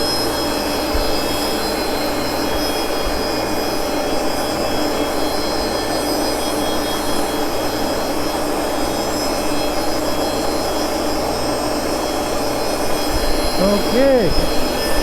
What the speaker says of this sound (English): And the grinder is on.